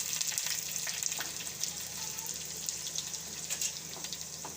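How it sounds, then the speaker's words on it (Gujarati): Chilies, sesame seeds and curry leaves tempering in hot oil, giving a faint, continuous sizzle with scattered crackles and pops and no talking. "તો એમાં આપણે આ મરચાં નાખી દેવું, અને આપણે આ તલ નાખી દેવું, અને મીઠો લીમડો નાખી દેવું"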